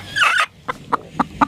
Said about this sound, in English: That's a mad chicken.